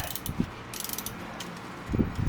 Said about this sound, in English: we're gonna crack our plug loose. This is a 18 millimeter on 3/8 drive ratchet.